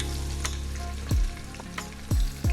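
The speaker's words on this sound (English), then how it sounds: "let's go ahead and get our oxtails in and sear them on off" Oxtails searing in a pressure cooker, a steady close sizzle and frying hiss with a few sharp thumps and clatters as pieces are dropped in or moved.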